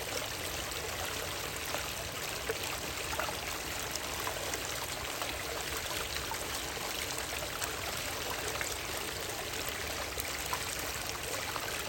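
Water sloshing and trickling through gravel and black sands in a gold pan during a high banker test, a steady close-up wash of splashing and dribbling with no talk.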